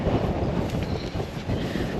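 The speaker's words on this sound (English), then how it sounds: "sorry about the wind, this is why we have fires" Strong wind buffets a microphone outdoors on a cold day, a dense, steady low roar that fills the whole stretch with no voices.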